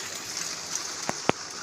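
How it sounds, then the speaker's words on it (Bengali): Heavy monsoon rain heard from indoors, a steady faint hiss of downpour broken by two sharp drip-like taps near the end. "বৃষ্টি থামার কোনো সিন নেই।"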